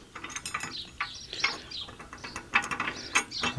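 A rod attachment is fitted onto an O'Mac MC700 tiller, producing close metallic clicks, ratcheting and rattles in irregular bursts, with faint birdsong in the background.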